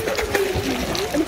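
A small boy kicks and splashes in a swimming pool, giving light, repeated splashes close by while an adult voice talks encouragingly over them.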